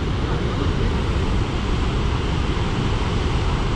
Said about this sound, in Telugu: వాటర్ఫాల్ సౌండ్ చూడండి ఎంత భయంకరంగా ఉందో